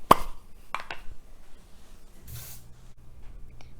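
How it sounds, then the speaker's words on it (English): A can of non-stick cooking spray hisses over a baking sheet for chocolate chip banana bars in a kitchen, a brief burst near the middle after a few clicks and taps, close and moderately loud. "I'm just going to spray some non-stick spray so my bars don't stick"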